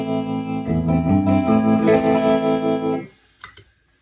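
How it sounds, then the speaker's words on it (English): An electric guitar runs through a tremolo effect pedal, playing a short phrase of sustained, processed notes that ring for about three seconds. A faint click follows as the sound cuts off. The guitar is close and heard alone. "the tremolo, I said that's like an old 50s instrument effect"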